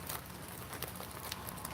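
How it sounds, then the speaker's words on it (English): Light rain patters softly in a steady, faint stream of small drops ticking and crackling on surfaces, with no voices. "Listen to the rain just pitter pattering."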